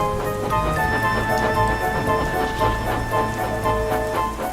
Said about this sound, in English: The rain pelted me endlessly.